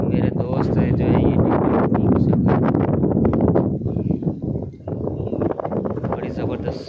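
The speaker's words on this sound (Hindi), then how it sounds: "हवा चल रही है बहुत तेज और ठंडी हवा" A strong, cold wind blows at a hilltop shrine, buffeting the microphone in loud, gusty rumbles that dip briefly and then return, while someone talks over it.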